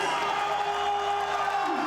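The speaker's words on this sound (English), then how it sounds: "And the crowd in rapture." A cricket crowd at a Pakistan vs Sri Lanka one-day international roars in steady, sustained cheering after a batsman's innings, a dense wash of voices holding at an even level throughout.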